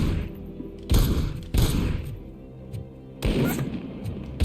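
Sniper fire in the RoboCop video game: three sharp, heavy shots ring out at irregular intervals, each blast trailing into a short rumbling decay over a low, steady background.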